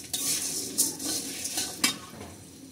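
A spoon stirs ingredients being lightly fried in a pan, with soft steady sizzling underneath and a few sharp metallic scrapes and clinks against the pan, close and clear, with no speech.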